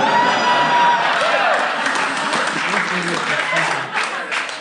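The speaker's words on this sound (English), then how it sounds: "I know forced applause when I hear it" Live audience at a comedy podcast taping at SF Sketchfest gives a sustained wash of applause with scattered cheers, steady and dense throughout, tapering slightly toward the end.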